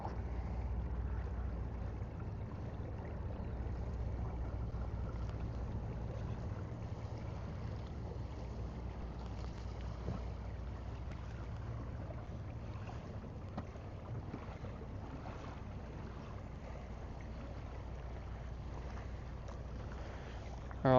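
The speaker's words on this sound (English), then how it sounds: "Sound meaty, the diesels in that thing" Boat diesel engines idle at a dock on the Gippsland Lakes during a bream fishing event, a low, steady rumble with faint wind noise.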